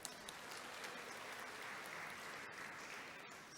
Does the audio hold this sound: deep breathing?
no